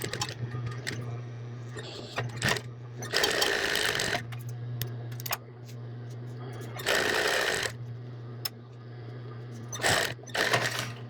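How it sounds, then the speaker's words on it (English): A sewing machine top stitches the rolled hem of a women's apron down to the bottom, in several short bursts of fast, close needle clatter over a constant low motor hum, with quiet pauses between runs. "I'm gonna top stitch and then stitch all the way to the bottom."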